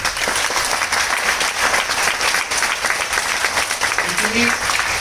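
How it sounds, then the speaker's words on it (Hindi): Large audience at a Modicare training event clapping loudly and continuously, a thick, even roar of applause that fills the whole stretch. "एक बार जोरदार तालियां"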